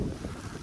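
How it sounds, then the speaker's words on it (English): Low, rumbling buffeting of strong wind hitting a microphone outdoors while metal detecting, continuous and loud throughout the short moment. "Sorry about the wind."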